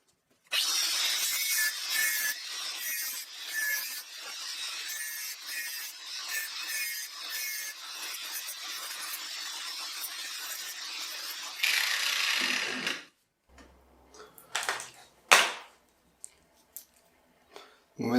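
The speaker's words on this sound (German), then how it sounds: "jetzt mache ich in die Wellen ein paar Einkerbungen mit der Flex" An angle grinder cuts notches into metal shafts for an epoxy-bonded router circle jig, giving a sustained gritty, scraping whine that stops abruptly, then a few isolated clunks and handling knocks.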